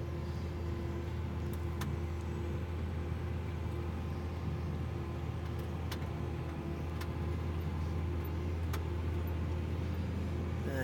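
Steady, loud tractor engine drone while chisel plowing in a field, a constant low rumble with a few faint ticks; no clear gear change is audible and no one talks.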